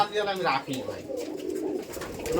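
Pigeons on a farm coo in soft, repeated low calls close by, while a voice talks over them.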